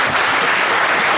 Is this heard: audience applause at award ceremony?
yes